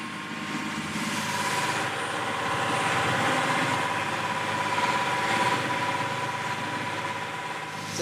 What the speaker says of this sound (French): Le bruit assourdissant du moteur casse les têtes.